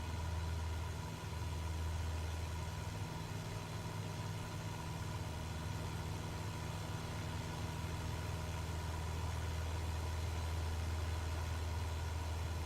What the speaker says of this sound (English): Don't want to overheat the engine.